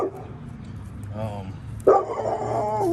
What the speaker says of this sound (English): I guess that's a neighbor dog.